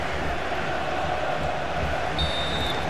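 Stadium crowd noise from the FIFA 16 football video game forms a continuous roar behind the match. The level stays even and broad, with no individual voices standing out.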